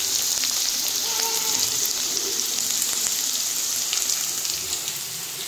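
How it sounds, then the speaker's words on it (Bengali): Cubed paneer fries in oil with a dense, even hiss and crackle that stays close and continuous throughout, with no talking. "পনিরটা আমি ভেজে নিচ্ছি"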